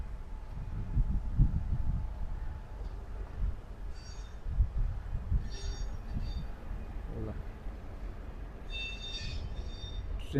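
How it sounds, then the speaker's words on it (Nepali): A freight train engine runs near a street in Melbourne, Australia, giving a steady low rumble throughout with cold wind noise on top and faint higher clatter now and then. "सामान बोक्ने ट्रेनको इन्जिन चलिरहेछ"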